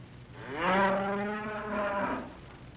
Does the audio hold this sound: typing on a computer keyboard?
no